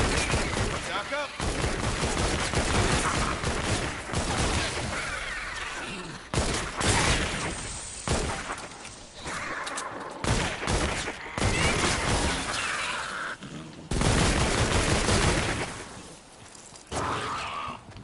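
Fireworks in the Fortnite: Save the World video game set off a rapid, crackling barrage of loud bangs and bursts, with sharp pops in dense clusters and brief gaps between volleys.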